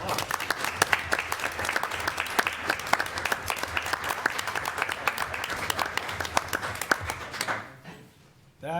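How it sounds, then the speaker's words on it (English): Sustained applause from an audience at a school board meeting, dense clapping for several seconds before dying away, with a brief pause and a faint start of renewed sound at the end. "Round of applause."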